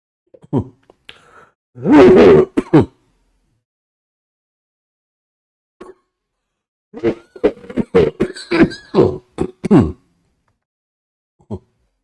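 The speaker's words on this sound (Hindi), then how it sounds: "कुछ खांसी की प्रॉब्लम हो रही है" A person coughs and clears their throat in several separate bursts, with a longer harsh coughing fit midway, close up amid quiet pauses.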